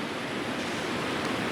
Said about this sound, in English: I'm shouting a little bit because it's quite noisy here by the river